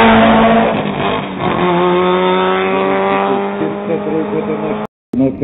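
A race car pulling away at the Pezinská Baba hill climb, its engine revving loudly through rising gear changes close by, with a commentator talking over it before a brief cut.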